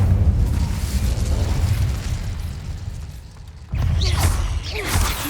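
An Incendio fire spell goes off in Hogwarts Legacy as a deep, roaring fiery burst that rumbles steadily, eases, then flares up again near the end, loud and close.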